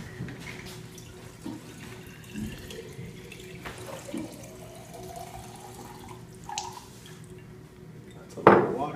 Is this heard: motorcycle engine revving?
no